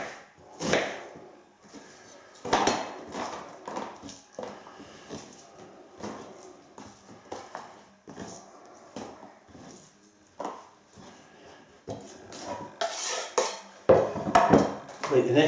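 A knife coarsely chopping onion on a board while cooking beef and black bean sauce: irregular sharp knocks and clatters, some in quick bursts, close up with quiet gaps between.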